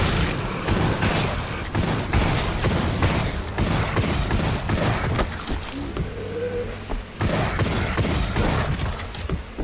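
Repeated pistol shots from Wrath: Aeon of Ruin ring out in sharp, evenly spaced bursts with a short lull midway, loud and close over game ambience.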